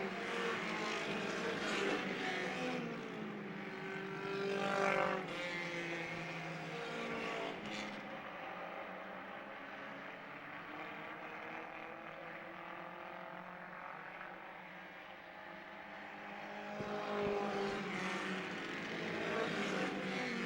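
Race cars run laps around a track during a short race. Their engines drone and swell as the cars pass, rising and falling again and again at a moderate distance.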